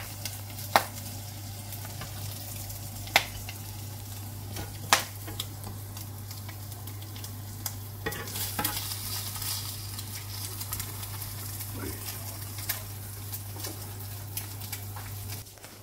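An egg fries in a pan with a soft, steady crackling sizzle, broken by a few sharp ticks and light scraping clicks, over a low constant hum.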